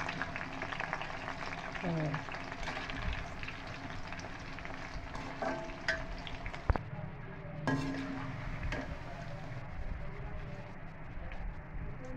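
Soybean chunk pakoras frying in a pan of oil, a steady close sizzle with occasional clinks and scrapes of a utensil, no talking.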